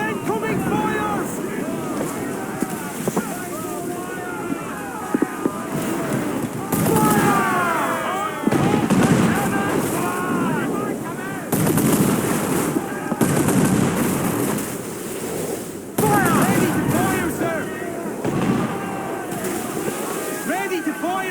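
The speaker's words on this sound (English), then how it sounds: "Unload all the shot we have! Enemy fire! Taking some shots, Captain! Incoming fires!" Ship cannons fire in a pirate naval battle in Assassin's Creed IV Black Flag. Booming blasts come in irregular bursts over wind, waves and shouting crew voices that keep talking throughout.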